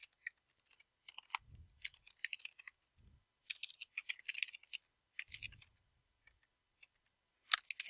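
Fingers type on a computer keyboard in a quiet room, producing soft, irregular clicking keystrokes in scattered bursts with short pauses, plus a sharper cluster of taps near the end.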